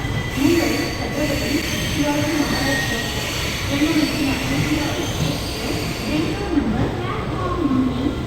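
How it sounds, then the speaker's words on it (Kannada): A metro train runs through Majestic metro station in Bengaluru with a loud continuous rumble, rattling carriages and squealing wheels, and faint background voices throughout. "ಮೆಜೆಸ್ಟಿಕ್ ಮೆಟ್ರೋ ಬಂದ್ವಿ."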